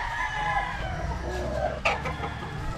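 A gamefowl stag, a young rooster, crows once, a short, moderately close call over a low background hum of the farm.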